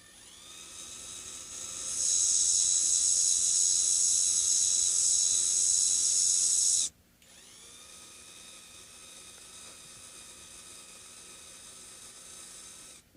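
A drill bores into the bridge of a Kamaka ukulele, a high whining buzz that runs steadily for several seconds, then cuts off into a quieter mechanical hum.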